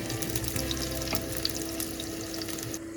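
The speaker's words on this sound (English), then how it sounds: "Add cooking oil to the pan over medium heat. Add the sliced garlic." Sliced garlic sizzles steadily in hot cooking oil in a pan over medium heat, a continuous crackling fry with occasional stirring and small pops, close and even throughout.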